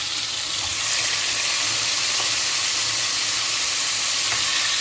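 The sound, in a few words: oxtail sautéing in a pot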